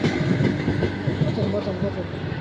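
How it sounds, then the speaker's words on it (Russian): A train rumbles past nearby on a bridge with a rhythmic clatter of wheels on rails, voices faintly audible over the steady roar. "но это поезд"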